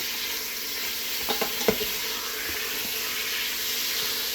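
Meat sizzles steadily in a hot pan after a salt and pepper seasoning, a continuous close frying hiss with a few brief clicks and taps near the middle, no voices.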